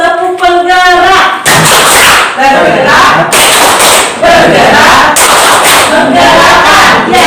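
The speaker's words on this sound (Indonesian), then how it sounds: "Kita tepuk lagi ya. Tadi tepuk penggerak." A group in a teacher-training session performs a tepuk penggerak clapping chant, loud shouted voices in unison with bursts of rhythmic claps and thumps that come in repeated waves.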